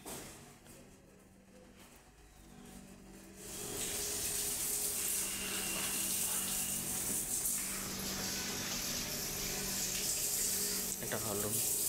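Water gushes from a tap at a dining hall washing area in a Bharat Sevasram Sangha building in New Delhi. It starts after a quiet stretch, then runs as a steady close hiss and splash with faint voices behind.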